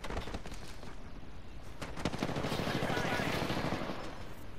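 Rapid bursts of automatic gunfire crackle continuously in an Apex Legends ranked arena match, loud and dense, with a player's voice talking over the shooting.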